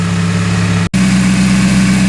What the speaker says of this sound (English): So it's been idling here for 15 minutes.